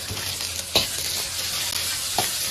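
Fatty pork belly frying in oil in a wok, a broad, even sizzle with a couple of sharp spatula knocks.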